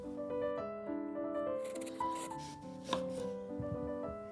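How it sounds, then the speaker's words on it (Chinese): A knife cutting through an onion on a board, a few soft slicing thuds partly buried beneath louder background music. "在8毫米位置切一刀， 顶部切一刀，可以打开花瓣"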